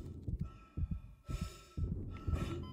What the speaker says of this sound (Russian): Сердце бьется.